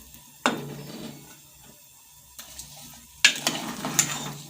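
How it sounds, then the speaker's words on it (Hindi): A spoon stirs spices into meat in a cooking pot while preparing chicken pulao, giving a few scraping clatters against the metal and a soft sizzle underneath, all heard close. "मिक्स करेंगे और फिर धीमी आंच पे गोश्त को गलने के लिए रख देंगे हम"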